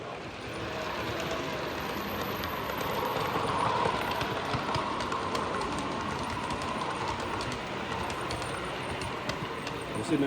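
A model London Underground train runs along an exhibition layout with a steady, continuous rolling rumble and rail clatter at moderate loudness throughout, with no clear talk.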